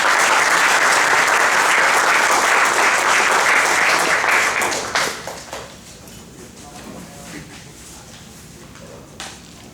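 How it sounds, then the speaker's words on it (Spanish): Loud, sustained applause from a church congregation welcoming a guest preacher, steady for about five seconds before thinning into scattered claps and murmuring. "¿Qué tal si le recibimos con un aplauso?"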